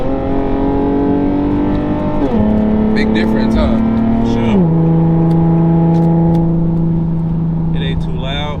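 Infiniti G37 with muffler and resonator delete holds a loud, steady droning exhaust note that steps down in pitch twice, with people chatting over it.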